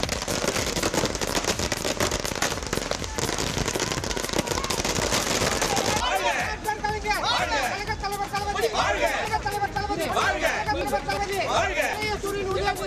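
Firecrackers burst in rapid crackling volleys at a DMK party celebration in Villupuram and Vikravandi, loud and continuous with a crowd chattering throughout.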